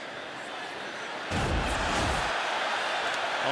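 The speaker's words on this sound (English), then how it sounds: "Home crowd." A home stadium crowd at an NCAA Football 2025 game, Louisiana-Monroe at Alabama, starts as a soft murmur, then swells suddenly into a loud, sustained roar with scattered shouts.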